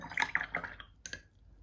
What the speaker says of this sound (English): by just continuing to rinse our brush with water